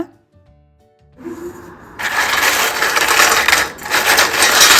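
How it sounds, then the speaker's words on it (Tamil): Crisp fried thattai, a Tamil rice-flour snack fresh from hot oil, breaking and crunching in loud dense crackles that start after a quiet moment and continue steadily close up. "இப்போ இதோடைய சவுண்டு பார்த்திங்கன்னா நல்லா மொறு மொறுன்னு இருக்கோங்க"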